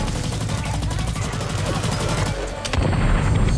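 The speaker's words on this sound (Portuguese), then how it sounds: "Nossa, o bagulho explodiu em mim." Heavy gunfire rattles through a match of the video game Blacklight, a fast run of close shots that ends in a louder burst near the end.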